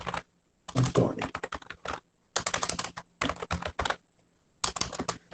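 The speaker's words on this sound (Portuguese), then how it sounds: "Eu vou digitar aqui meu nome" Typing on a computer keyboard in rapid bursts of clicking keystrokes, close and crisp, separated by short silent pauses.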